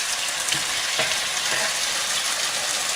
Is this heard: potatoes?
yes